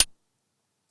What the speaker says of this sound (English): I guess it's a sound of a hit of some metallic objects or something.